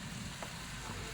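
Beef frying in a pan with onion, oil and spices, a soft steady sizzle heard close and quiet for a brief moment with no voices.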